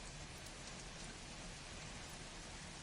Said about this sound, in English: Let's stop the rain.